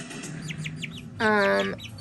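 A Silkie chicken chick gives a string of soft, rapid peeps, then a louder, sustained trilling cheep close up, over faint background noise.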